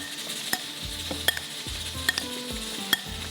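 Pasta chickpea salad being mixed in a bowl, with repeated spoon clinks and scraping strokes at an irregular rhythm over a faint background hiss, close by and without speech.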